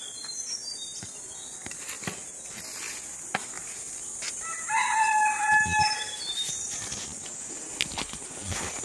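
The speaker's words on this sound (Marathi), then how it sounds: "कोंबडा बोलतोय जेवायला या चला." Rooster crowing once in a long, clear call midway through, set against steady cricket and insect chirping in a coconut grove in rural Konkan, with scattered clicks and no talk.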